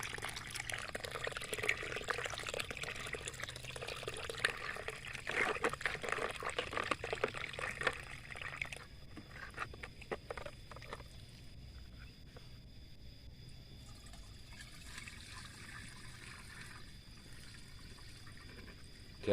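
Pesticide powder, red in colour, being stirred and dissolved in water, with liquid sloshing and trickling close by, busiest in the first half before settling to a quieter swirl.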